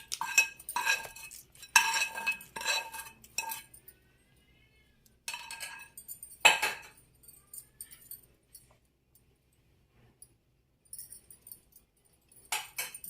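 Tempering poured over curd vada in a bowl, heard as bursts of metal spoon clinks and scrapes against vessels in separate clusters, with quiet gaps between them and no talk.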